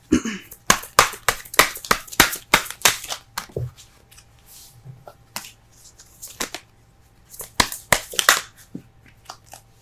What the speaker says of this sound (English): Cards are flying out everywhere.